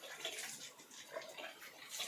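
Water runs steadily from a tap after a water storage tank has been washed, with muddy water still coming through; a constant close splashing rush with no speech.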